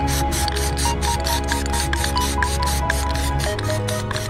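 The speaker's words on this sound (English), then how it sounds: "I'm gonna do two coats of glossifier" Aerosol can spraying a Plasti-Dip glossifier coat onto a 2020 Honda Civic Si emblem, a steady broadband hiss running continuously throughout, with faint rattling, close and loud.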